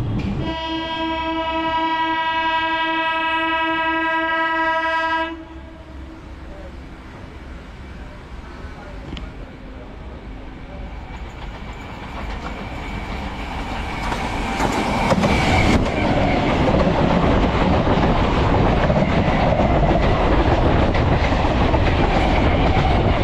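A Kanchenjunga Express passenger train on the Sealdah–Silchar route blasts a long, loud horn for about five seconds. A steady, heavy rumble of the moving train follows and swells louder toward the end.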